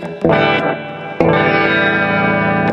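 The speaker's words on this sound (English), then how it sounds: "it's like a characteristic of an old tape echo" Distorted guitar notes from a pedal's tape echo effect, drenched in echo and wobbling, warbly repeats; two strums ring out and sustain with a wavering, tape-like pitch.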